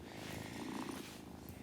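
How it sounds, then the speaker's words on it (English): A cat purring as it is petted in a video game, a continuous soft rumbling purr, close and steady, heard alone for under two seconds. "And the cat purrs"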